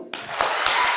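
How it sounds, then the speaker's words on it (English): A large audience breaks into loud, dense applause that starts abruptly and carries a few stronger claps within the wash of sound. No clear rhythm stands out in this short stretch. "Why don't we clap in some rhythm?"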